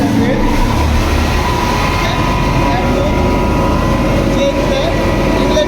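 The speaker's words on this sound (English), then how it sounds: "So switch on the Pelton wheel." A lab Pelton wheel turbine runs steadily after being switched on, a loud continuous rumbling roar of water jets and machinery filling the space without pause.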